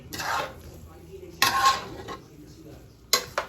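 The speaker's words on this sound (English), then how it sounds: "then take it and you stir it" A spoon stirs a large pot of arroz con gandules holding nine cups of rice, making three sharp clattering scrapes against the metal, spaced apart by quieter gaps.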